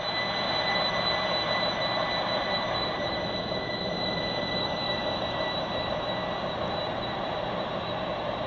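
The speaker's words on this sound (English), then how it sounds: "The train now approaching platform 4 terminates here." Simulated train from the Roblox game Stepford County Railway rolls into a station platform, a steady loud rumble with faint wheel squeal running throughout, with no talk.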